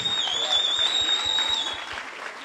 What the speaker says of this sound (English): all the accolades and applause goes to this incredible daughter of West Maui right here.